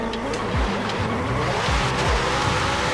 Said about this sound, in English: Heaps of fucking wheel spin.